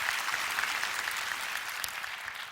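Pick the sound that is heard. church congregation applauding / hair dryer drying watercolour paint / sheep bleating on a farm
church congregation applauding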